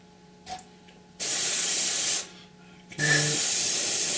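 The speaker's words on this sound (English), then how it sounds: "So we can just spray these front area." An airbrush sprays paint onto the front of a 1/48 Airfix Sea Vixen model kit in two loud, steady hissing bursts, each about a second long, with a short pause between them.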